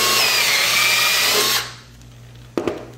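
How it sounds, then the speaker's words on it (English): Power drill boring shelf pin holes into a wooden cabinet side held in a jig: a loud, steady whine lasting about a second and a half that stops abruptly, followed after a pause by a single sharp knock. "Just put it down in the jig and drill."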